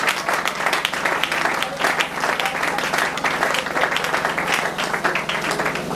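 A church congregation at a French-language worship service breaks into loud, sustained applause. The dense clapping fills the room without pause, with a faint murmur of voices underneath.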